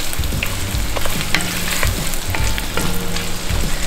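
Butter, garlic and sausage sizzle steadily in a hot pan, a loud, close frying crackle with light stirring clinks scattered throughout, no talking.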